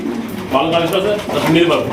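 Pigeons coo at a seller's loft, soft throaty calls rising under a voice talking nearby.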